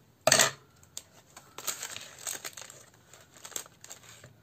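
Adhesive tape being peeled and torn off a poster or package indoors, a sharp loud rip at the start followed by quieter crinkling and intermittent tearing crackles.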